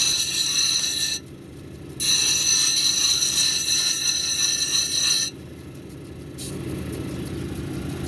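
A grinding wheel works an indigo gabbro cabochon, giving a steady mechanical whine and whir that drops away twice and resumes as the stone is lifted and pressed back.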